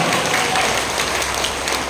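At a Ramadan religious gathering, a crowd applauds loudly and continuously, a dense wash of clapping held at full strength for the whole couple of seconds.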